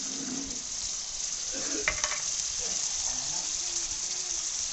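Cashew and poppy seed paste sizzles in hot oil while cooking a Bengali doi katla fish curry, giving a steady close frying hiss with a few faint clinks and stirring sounds partway through.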